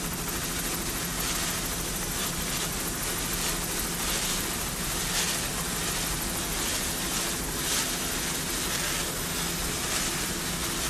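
A helicopter flies over the Key West World Championships powerboat races, its rotor thudding in a steady, continuous beat with a constant engine whine that stays at an even loudness throughout.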